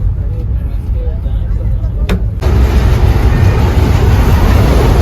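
A train rumbles steadily across the Jamuna Bridge in Bangladesh, a heavy low roar that grows noticeably louder partway through and then holds.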